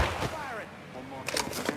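Gunfire in Mafia 3 cracks out in a few quick, sharp bursts among busy game sound, with a voice talking over the shots.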